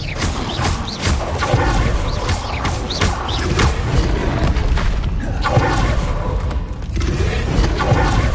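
Confringo blasting spells explode in Hogwarts Legacy on PS5 amid loud, busy combat: repeated booming blasts and crashes over a constant rumbling din.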